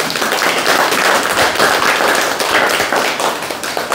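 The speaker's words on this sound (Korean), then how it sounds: "원희룡 장관한테 박수 한번 보냅시다" An audience at a political party gathering claps for a government minister, a dense, loud burst of steady hand-clapping that continues for several seconds without a break.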